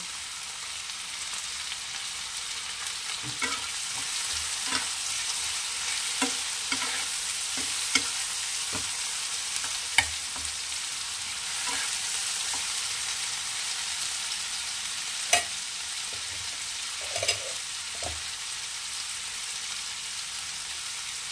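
Chopped tomatoes fry in a pan for a Bengali fish curry, a steady close sizzle broken by repeated scraping and clacking as a spoon stirs them now and then.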